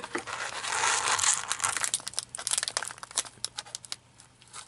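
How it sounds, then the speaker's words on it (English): Close, loud crinkling of a plastic snack package being handled and cut open with scissors, a dense rustle that breaks into sharp, irregular crackles. "open up the package with my scissors again, because the package is already being super loud"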